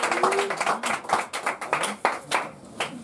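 Church congregation clapping in a worship service, dense rhythmic handclaps from many people for about three seconds, near and lively, with faint voices mixed in.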